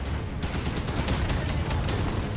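Sustained gunfire in a firefight in Halo 5: Guardians, with dense overlapping shots and bursts filling the whole stretch at steady loudness, no pauses.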